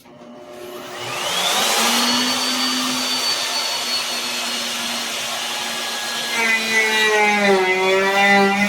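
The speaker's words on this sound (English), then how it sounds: "we're ready now to use the bigger router bit" A router fitted with a larger bit cuts wood for a restaurant booth privacy divider, a steady loud whine that spins up, holds, then shifts pitch as the cut loads and eases.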